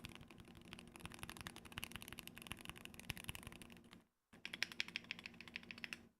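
Fast, steady clacking from someone typing on a gaming keyboard nearby, dense keystrokes running continuously with a short pause before resuming.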